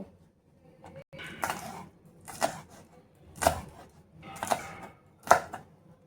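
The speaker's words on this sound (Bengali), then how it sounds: "এই যে কাঁচা লঙ্কা নিয়েছি, তো এগুলো একটু কুচি করে নেব" A knife chops ginger and green chillies on a board in sharp, separate strokes, five or so distinct cuts spaced about a second apart, close and fairly quiet with no talking.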